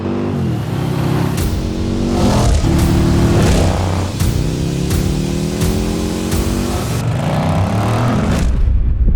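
A liquid-cooled PowerPlus 108 cubic-inch American V-twin motorcycle engine revs repeatedly, each loud blip climbing sharply and falling back, in a quick rhythmic series close to the microphone without talk.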